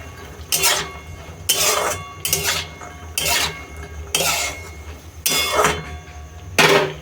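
A utensil scrapes and clanks against a metal pot while potatoes and chickpeas are stirred, seven rhythmic bursts of scraping roughly once a second over a steady low background hum.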